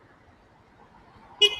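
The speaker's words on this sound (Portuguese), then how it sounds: "Deixa eu só buzinar aqui para entregar aqui as meninas aqui." A single short honk from a new motorcycle's horn bursts out near the end, loud and close after a stretch of quiet low rumble.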